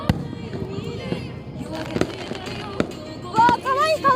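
Fireworks at the 2022 Kuga summer festival at Mukuno fishing port burst in sharp, scattered pops and bangs, with a family chatting nearby and high excited voices rising toward the end.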